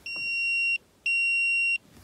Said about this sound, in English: You can hear that the Sky Q remote is beeping